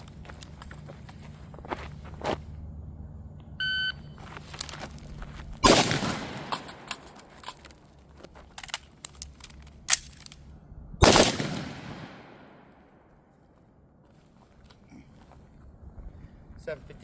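Several sharp, loud carbine gunshots ring out in two bursts until the gun runs dry, with a short shot-timer beep earlier on and quieter thumps and shuffling in between.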